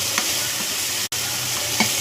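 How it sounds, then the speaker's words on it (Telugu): Egg fried rice with soy sauce and tomato sizzles steadily in a pan while it is stirred, with a couple of soft scrape strokes and one very short gap in the frying hiss. "వేసుకొని బాగా కలుపుకోవాలి."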